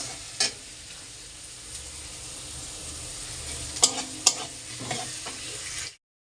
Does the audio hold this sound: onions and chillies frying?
yes